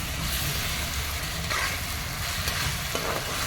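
Masala for a tamarind-style fish curry frying in a pan, a dense loud continuous sizzle with occasional stirring scrapes, close up and without speech.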